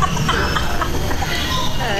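A bird calling at Jurong Bird Park, heard as short clucking, fowl-like calls close by amid busy crowd noise and people talking.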